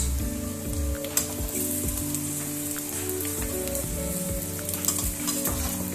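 Potatoes tumble into a hot pan of spiced oil for a dosa aloo sabzi filling, giving a loud, continuous sizzle broken by repeated scraping stirs and knocks of a spoon.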